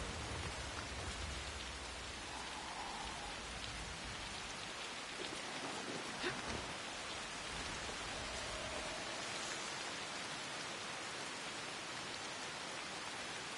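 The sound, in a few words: pouring rain in video game Assassin's Creed Shadows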